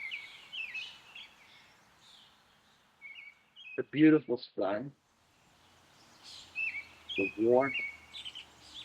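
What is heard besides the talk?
birds singing outdoors in spring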